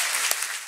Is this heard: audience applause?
yes